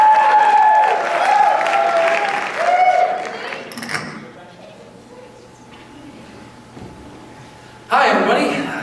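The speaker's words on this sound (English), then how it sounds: "Give a round for applause as Tim DeVries comes up" Audience applause and cheering at a talent show, loud crowd clapping for several seconds that fades into a quiet hum, then a fresh burst of clapping near the end.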